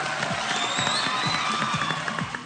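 A studio audience at a Pakistani TV game show applauds in a dense, continuous patter of clapping, with some cheering and background music mixed in.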